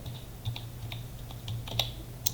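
Computer keyboard keys tapped while entering text into an Excel cell, a sparse run of quiet, irregular clicks at close range with no voices.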